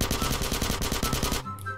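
Rapid automatic gunfire rattles in GTA San Andreas, a loud, evenly spaced burst of shots that stops abruptly near the end and leaves a quieter game background.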